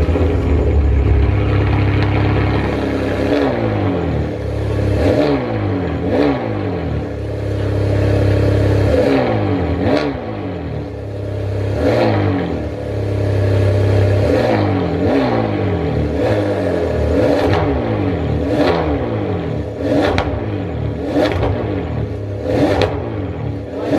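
A 12-cylinder supercar engine fires up and revs repeatedly, rising and falling in a series of loud, close sweeps over a steady idle, with sharp throttle blips toward the end and no talking.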